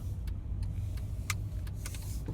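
Steady low car road rumble from inside a vehicle overtaking another car, with faint brief hiss transients from passing traffic, no voices.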